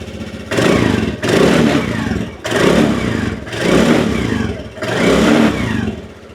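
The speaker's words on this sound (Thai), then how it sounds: "ลองแบบเร่งเครื่องกันสักนิดนึงนะครับ" A 2021 GPX Drone motorcycle with its stock exhaust revved repeatedly, four or five loud throttle blips each rising and falling back to idle, up close.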